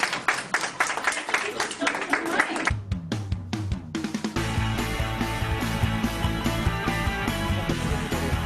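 An audience gives a warm round of applause for a performer, starting with a few scattered, uneven claps and swelling into dense, steady clapping that holds to the end.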